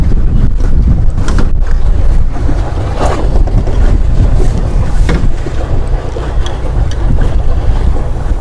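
A pedal boat moves across the sea at Neum, with steady wind buffeting the microphone over continuous water wash and a few scattered knocks, loud and close throughout.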